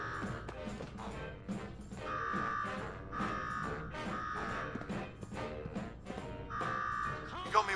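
A repeating alarm buzzer from the video game Fallout 4 sounds in a steady pulsing rhythm of loud, harsh bursts, with game sounds and clatter mixed in around it.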